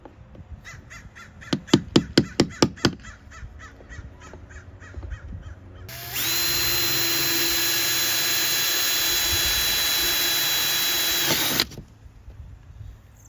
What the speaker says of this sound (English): make a little mark, and then drill my holes